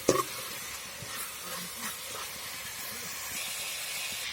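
Ginger garlic paste frying in hot oil in a wok gives an even, steamy hiss that holds steady from start to finish, with a brief clatter at the very beginning and no speech.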